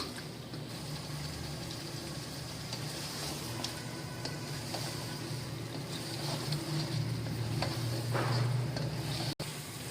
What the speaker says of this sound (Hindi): ये मैंने चिकन और अदरक लहसुन का पेस्ट डाल के इसको थोड़ा फ्राई कर लिया था